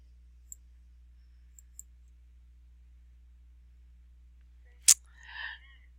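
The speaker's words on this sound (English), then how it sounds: "we're going to click on the scroll bar over here and scroll down until we get to Leela Patterson" A computer mouse clicks a few times in a quiet room: sparse, faint ticks, then one sharper, louder click followed by a brief soft murmur.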